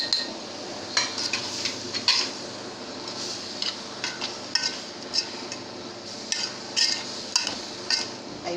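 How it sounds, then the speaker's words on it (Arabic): A spoon scrapes and clinks against a cooking pot as meat with spices, tomato, chili and black pepper is stirred for kebab halla, a series of irregular metallic taps and scrapes over a faint background sizzle. "زي ما انتم شايفين كده بفضل اقلب في اللحمه كده"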